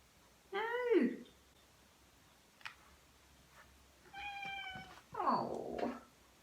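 A house cat meows in a quiet indoor room: a drawn-out yowl, then after a pause a couple of further meows, the last rising and strained, with soft ticks between them.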